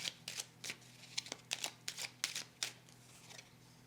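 Tarot cards being laid down on a table during a reading, a series of about ten quick crisp card slaps and shuffles in an uneven rhythm, close and fairly quiet, with no talking.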